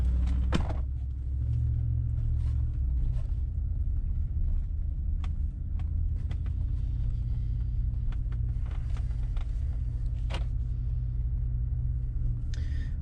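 A 300-horsepower 2000 Mustang GT V8 rumbles steadily from inside the cabin while driving in sport mode, a low continuous drone with occasional clicks and knocks over it.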